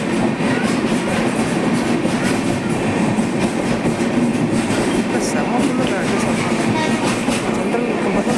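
A long-running passenger train travels between Salem and Chennai, heard from inside the compartment as a loud, continuous rumble and rattle with a faint clatter throughout.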